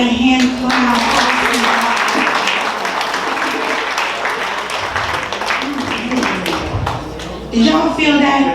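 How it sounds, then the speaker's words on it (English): An audience at an African American Read-In event applauds a singer, with sustained, dense hand clapping filling the hall and a voice speaking over it at the end. "let's give her another hand clap"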